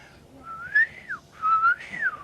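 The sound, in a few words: person imitating a whistle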